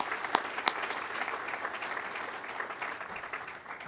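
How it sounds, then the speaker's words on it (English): Steady applause from an audience at an Air Force undergraduate pilot training graduation ceremony, honoring support personnel. The clapping holds at an even level throughout, with a couple of sharper claps near the start. "a round of applause for our support personnel"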